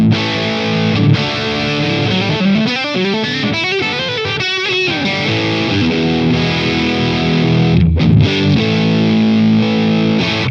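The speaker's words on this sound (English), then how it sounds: "This is the Super Distortion and Feedbacker." Electric guitar run through a Boss Super Distortion and Feedbacker pedal into a Boss Katana amp: thick, saturated distorted chords and riffs played continuously at steady loudness, with a brief drop near the end before ringing on.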